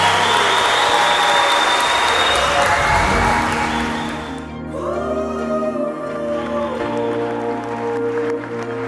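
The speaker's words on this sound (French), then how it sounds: "On peut les applaudir." Wedding guests in a banquet hall clap for a newly married couple, loud dense applause for several seconds that then gives way to music.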